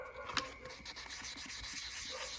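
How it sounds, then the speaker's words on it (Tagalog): Carbon fiber part hand-sanded with 600 and 1500 grit sandpaper, steady close scratchy rubbing strokes repeating over a couple of seconds with no talking. "Kung kaya naman lilihain pa po natin yan gamit itong liha natin."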